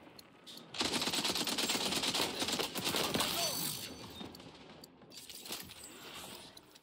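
An M60 machine gun firing in the shooter game XDefiant, a fast, sustained burst of shots that tapers into scattered quieter firing and mechanical clatter, with no speech.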